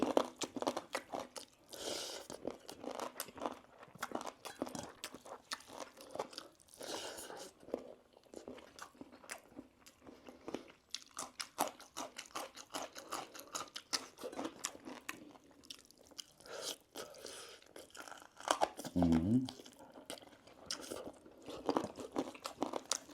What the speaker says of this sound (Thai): กระดูกแก้วนะอร่อยครับมันจะกรึบ